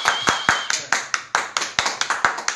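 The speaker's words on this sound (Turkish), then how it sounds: "Evet, alkışlıyoruz." A small group clapping for a man who rescued a kitten trapped in a sink pipe, a few people's sharp, distinct claps in an uneven rhythm, close by, with voices faintly underneath.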